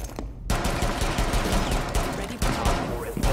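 Sustained automatic gunfire in Rainbow Six Siege, close and loud rapid shots in quick bursts with short breaks, as a weapon is fired into a wall.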